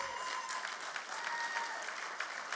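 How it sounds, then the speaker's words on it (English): Audience at a business awards dinner applauding steadily throughout, a dense, even clapping that fills the room without pause. "Please join us in a round of applause for our three finalists."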